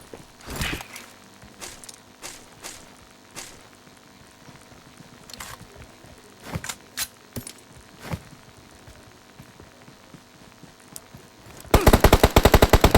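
M416 rifle fire in a PUBG-style battle royale game, with scattered sharp distant shots early on, then a loud, rapid burst of automatic fire near the end.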